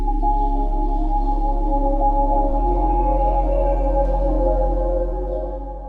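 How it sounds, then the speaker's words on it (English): A sustained, resonant synth pad with slowly shifting filtered harmonics and a deep low drone, playing steadily without any voice. "into atmospheric pads that sound something like this."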